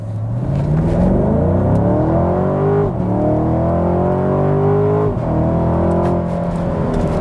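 Chevrolet Camaro convertible with a V8 launching hard in sport mode, the engine roaring loudly as it climbs through the revs, with two quick shift breaks before pulling on strongly.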